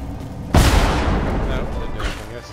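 A bomb detonates in the video game Lara Croft and the Temple of Osiris, a sudden loud boom followed by a long rumbling decay that fades over two seconds, with no speech.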